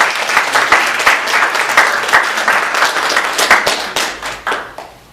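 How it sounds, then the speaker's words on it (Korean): A church congregation gathered for Sunday worship applauds to welcome visiting guests, a pastor and his wife, with close, loud, steady clapping from many hands that thins toward the end. "우리 박수로 환영하겠습니다."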